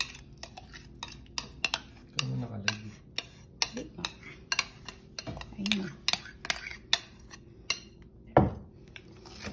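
Crispy sisig ingredients mixed together with a metal utensil in a bowl or pan, irregular clinks and scrapes repeating throughout, close by, with brief bits of voice in between.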